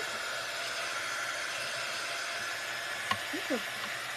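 A hair dryer blows hot air onto a craft board, a loud continuous whooshing hiss up close, with a brief click and a short murmur near the end.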